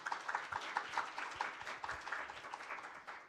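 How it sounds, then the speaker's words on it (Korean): Audience at an international workshop on environmental best available techniques applauds as a speaker takes the stage: a few minutes' worth compressed into seconds of quiet, distinct rhythmic clapping from a modest crowd, individual claps audible, fairly far and soft. "큰 박수로 맞이해 주십시오."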